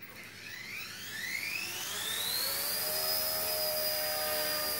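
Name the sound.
XK K124 RC EC145 helicopter flying indoors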